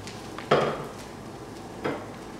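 An egg frying in a pan, a soft continuous sizzle with two sharp clinks of a utensil against cookware, one near the start and one a little later.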